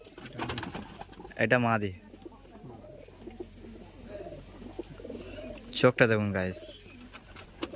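Pigeons coo in soft, brief bursts, two clearer calls standing out amid quiet ambience while someone talks nearby.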